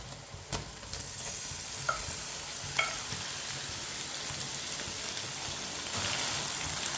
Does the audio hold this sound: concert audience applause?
no